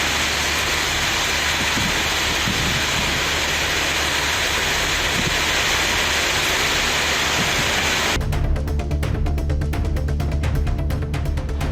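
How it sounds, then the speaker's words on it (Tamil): Heavy rain driven by strong gusty winds in Tamil Nadu, a loud continuous roaring wash for most of the stretch, then shifting to a sharper pattering downpour near the end, with no voices. "திடீரென வானிலை மாறி பலத்த சூறைக்காற்றுடன் கனமழை பெய்தது"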